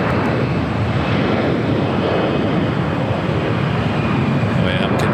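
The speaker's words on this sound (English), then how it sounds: "another Delta flight coming in from Atlanta" A Delta airliner, flight 8789 from Atlanta, arrives at LAX with a steady, loud broadband engine roar filling the whole stretch, close and unbroken, with faint voice fragments near the end.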